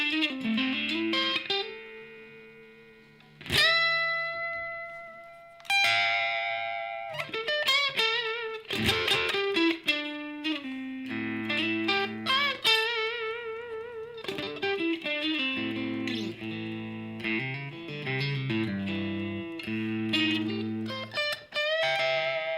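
Electric guitar run through effects, strummed chords and picked melodic lines with a slightly warbly, chorused tone, playing continuously without any talking.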